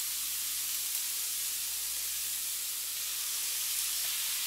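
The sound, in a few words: chopped white onions and garlic browning in an air fryer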